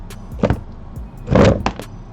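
A homemade paint mixer built from a broken sewing machine, its motor spinning a paint bottle in a small cup holder: short whirring bursts with a longer louder whir, then a few knocks and clicks, close and alone.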